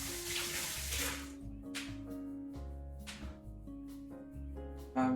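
Parsley rinsed under a running kitchen tap, the water gushing in several separate bursts against a steady tonal background.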